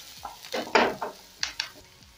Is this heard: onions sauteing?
yes